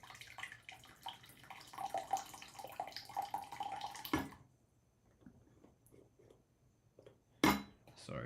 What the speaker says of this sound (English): I'm going to go ahead and just pour it real quick